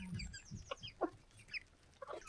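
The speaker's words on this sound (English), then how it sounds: "We have 13 laying chickens. 3 roosters and a bunch of babies" Chickens, laying hens and roosters, cluck in short, separate bursts over a low, steady background, with a few sharper squawks scattered across the moment.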